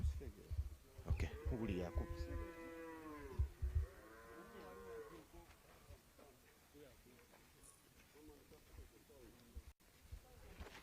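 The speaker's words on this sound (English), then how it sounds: "she has animals and 6 milking cows" Milking cows on a farm moo in two long, loud, drawn-out calls close by. Softer bovine grunts and background voices follow on an outdoor farm.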